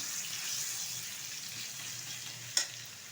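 Crushed garlic frying gently in oil, a soft, faint hiss that holds steady, with a single brief clink near the end.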